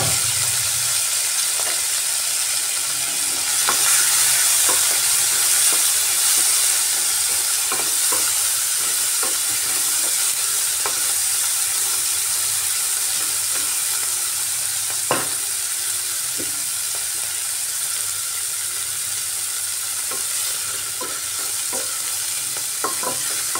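Shrimp fry lightly in hot oil with a loud, continuous hissing sizzle, dotted with occasional crackles and one sharper tap, going on steadily without any speech.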